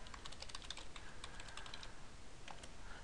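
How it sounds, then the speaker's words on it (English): Typing on a computer keyboard while entering an email address at a Google sign-in page, a quick, irregular run of light key clicks heard close up and alone throughout. "you are going to type in your email address"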